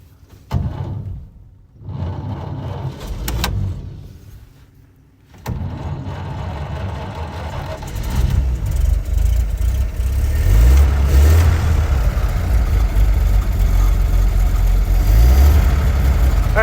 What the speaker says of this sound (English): I'm going to start the car and check the oil pressure